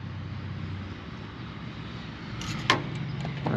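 A Massey tractor's engine starts and idles as it warms up, a steady low rumble with a brief louder burst near the end.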